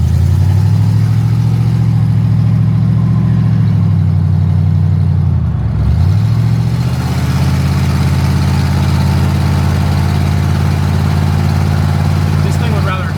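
A project Thunderbird's engine held at steady high revs under full throttle, refusing to downshift, a loud close drone inside the car that sags briefly at mid-clip before resuming, with talk over it.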